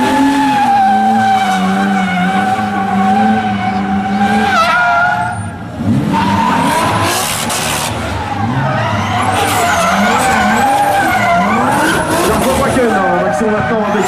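Falken drift team cars sliding sideways at a Lux Expo 2013 drift show, with loud, continuous tire squeal and howling, revving engines that shift in pitch, briefly easing off midway before surging again.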